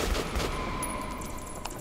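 Bursts of gunfire in the video game Metro: Last Light, a few sharp shots at the start followed by a faint rattling fusillade beneath a steady hum.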